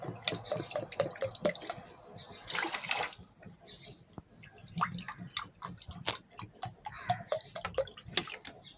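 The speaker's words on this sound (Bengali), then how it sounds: "তিন বাটি জল দিলাম" Water splashes and trickles into a pot holding sugar for a syrup, with a louder gushing pour midway and uneven drips and sloshing around it, close and moderately quiet.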